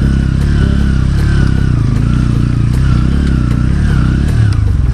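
A Bajaj Pulsar N160 motorcycle rides off-road through mud and rocky ground, its engine droning loud and steady close by with a rough, pulsing note and faint clatter, and no voices.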